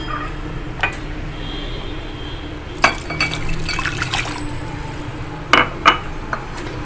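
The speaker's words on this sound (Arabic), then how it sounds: "كوباية المية المغلية هنبدأ نحطها هنا كده" Boiling water is poured into a cup for making jelly, a soft splashing trickle with scattered clinks of glass and dishes on a kitchen counter, fairly close and without talk.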